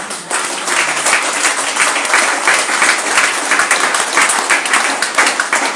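A church congregation applauding during a Wednesday service, dense sustained clapping from many people, loud and close.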